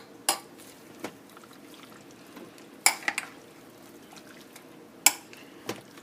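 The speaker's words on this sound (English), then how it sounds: "And I'm going to give it a little stir." Corn and beans get stirred in a pot, sounding as a few sharp, quiet clinks of a utensil against the pot spaced a second or two apart over a soft background.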